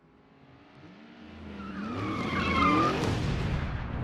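Hypercars racing in the Asphalt Legends video game, engines rising in pitch and swelling louder over a few seconds as tires squeal and skid near the end, with no talking.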